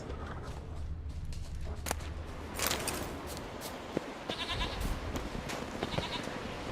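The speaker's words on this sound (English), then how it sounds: "A lot of goats." Several goats bleat in The Witcher 3, short wavering calls at moderate distance over a faint outdoor ambience, with a few soft thuds and footsteps between them.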